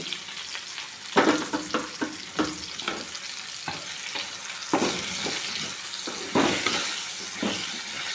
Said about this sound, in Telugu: ఇప్పుడు పోపు గింజలు వేసుకున్నాం స్పూను